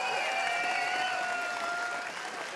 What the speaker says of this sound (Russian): громче, громче аплодисменты